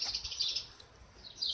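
Faint high chirps from baby birds fallen from their nest come in short bursts at the start and again near the end over quiet outdoor background.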